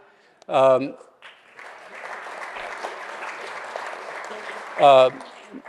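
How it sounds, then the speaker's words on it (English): An audience at an evening event applauds names as they are read out, a moderate, sustained patter of clapping between two short bursts of a voice near the start and end. "You can't help but applaud for Don."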